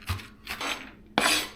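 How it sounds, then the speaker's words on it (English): Knife strokes chop vegetables, including onion, on a tray in a home kitchen while cooking shepherd's pie: a few separate close, crisp cuts, the last one louder, with no talk. "I'm not separating all the vegetables that I'm chopping up on the tray"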